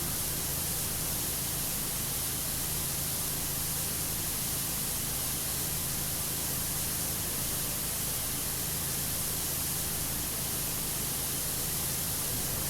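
The strongest nozzle of a pressure washer in PowerWash Simulator sprays a constant, dense hiss of water at a steady loudness throughout, with no pauses or talk.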